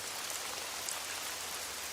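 Steady rain falling outdoors, a dense, even patter that stays constant and fairly close throughout, with no voices or other sounds.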